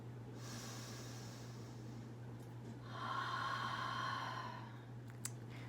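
Slow, deep breaths drawn in and let out during a home yoga session, a soft airy hiss rising and falling near the listener over a steady low hum, with no talking.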